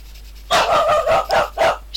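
A small pet dog lets out a quick run of loud, close yips and barks, four or five sharp bursts in under two seconds with brief gaps between them, heard alone after a moment of quiet.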